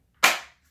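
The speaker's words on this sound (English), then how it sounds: "I have this little gun right here, this little nail gun" A single sharp bang as a nail gun drives a nail into a wooden canvas stretcher frame in an artist's studio, loud and close with a brief fading tail.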